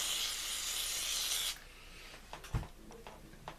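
Cleaner hisses from a spray can onto parts of a Daiwa M80 closed-face fishing reel in one sustained burst, followed by small faint clicks and handling noises.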